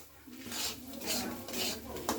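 Semolina is stirred in ghee in a pan for halwa, giving soft, rhythmic scraping strokes, about four of them, quiet and close, with a faint low hum underneath.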